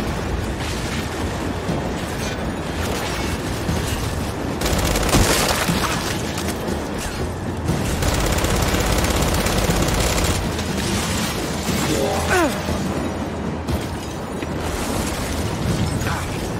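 Heavy turret gunfire in the Gears 5 video game, a dense, continuous barrage of rapid shots layered with booming blasts and mechanical clatter. It stays loud and sustained throughout, with no voices.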